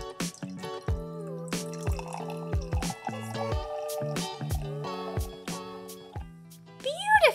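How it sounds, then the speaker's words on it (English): Ringo-flavoured Soso sake soda pours from a can into a glass, a close stream of glugging, gurgling liquid with dripping splashes and rising fill tones, ending with a few sharper fizzy splashes. "I'm gonna pour it out so we can see what it looks like."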